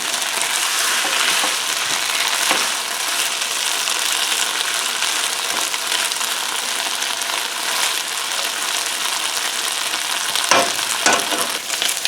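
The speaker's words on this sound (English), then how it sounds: "I want to turn this up a little now and just kind of fry it up" Potatoes, already softened, fry on raised heat in a pan, giving a steady, dense sizzle with occasional stirring scrapes, close and loud throughout.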